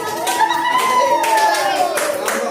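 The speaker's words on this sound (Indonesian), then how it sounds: "Tepuk tangan untuk teman-teman kelompok" Classroom of pupils in an Islamic religious education lesson clapping for a group of classmates, a bright burst of many hands, loud and steady, with children's voices mixed in.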